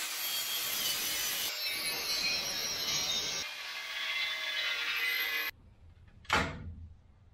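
Metal rasps steadily while a notch is cut into a car radiator to clear the battery box during a 4.6L modular engine swap into a 1966 Ford Mustang, close and loud for several seconds, then stops, followed by one short knock.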